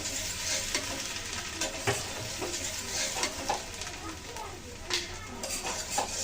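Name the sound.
greens with coconut frying in tempered oil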